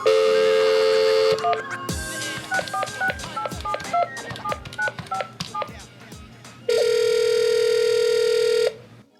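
A telephone call is dialed: a steady dial tone, then a quick run of keypad beeps, then a long ringback tone, all clear and close.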